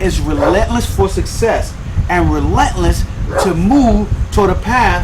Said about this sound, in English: that's my dog, guys.